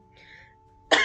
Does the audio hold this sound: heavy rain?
no